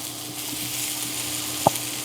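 Beef going back into a hot pan of softened onions while cooking beef lo mein, a steady low sizzle throughout with one brief louder crackle near the end.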